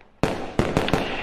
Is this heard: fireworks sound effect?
yes